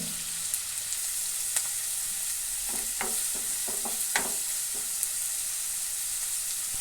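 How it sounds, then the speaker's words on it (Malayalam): Chopped onions frying in a pan for an egg gravy, giving a soft steady sizzle with scattered light clicks and stirring scrapes, mostly in the middle stretch. "ഇതിലേക്ക് നമ്മൾ കട്ട് ചെയ്ത് വെച്ച ഉള്ളി ഇട്ട് കൊടുക്കുന്നുണ്ട് കേട്ടോ."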